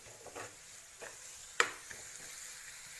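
Egg bhurji with chopped coriander is stirred in a pan, giving faint scraping strokes over a soft, steady sizzle, with one sharper clink partway through.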